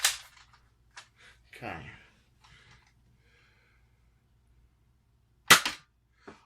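An X-Shot Fury 4 toy foam dart blaster fires with a sharp, close pop near the end, after soft clicks and handling noises, and a short spoken word comes early on.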